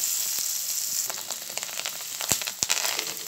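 Chopped onions fry in a pan until reddish for onion paratha filling, a constant bright sizzle broken by scattered spatters and a couple of sharp stirring knocks near the end.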